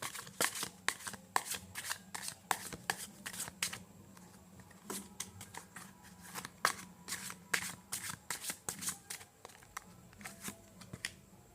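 Tarot cards being shuffled by hand, a steady series of crisp riffling and slapping bursts repeating throughout, close and moderately quiet.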